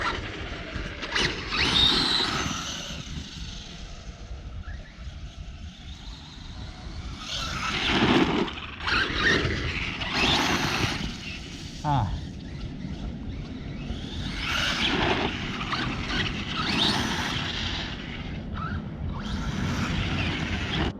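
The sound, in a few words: RC truck motor with slipper clutch slipping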